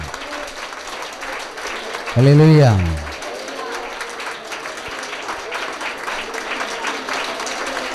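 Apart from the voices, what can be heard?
applause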